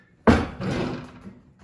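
The lid of a John Deere poly garden cart slams shut with one sharp hollow plastic bang, followed by a short rattle as it settles, close and loud.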